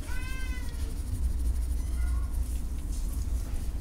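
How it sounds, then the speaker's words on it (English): A cat meows with rising harmonic calls near the start and again around two seconds, over a steady low purr-like rumble, close and fairly loud, with no talk. "You're a very purry kitty."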